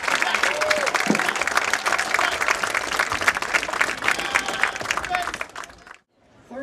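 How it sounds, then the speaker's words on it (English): Crowd applause for the Saegertown Marching Panthers at a 2017 high school football game, dense and steady clapping from a large stadium crowd that fades out near the end. "another round of applause for Saegertown Marching Panthers."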